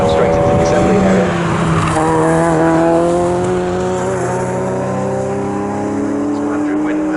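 Touring race cars lapping Snetterton circuit, loud engines droning and shifting pitch as cars pass, with tyre noise and a race commentator talking over the continuous roar.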